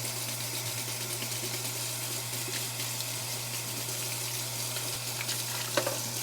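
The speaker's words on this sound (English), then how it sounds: "gonna pop it on the stove here and we'll cook it." Food frying on a cast iron hot plate over a stove, a steady close hiss of sizzling with a constant low hum underneath and a few faint clinks near the end.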